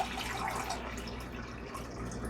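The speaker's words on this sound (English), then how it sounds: "I want to pour off about 2 cups" Water is poured from a container into a pot in a home kitchen while making mixed berry wine, a soft continuous splashing pour at close range with no talking.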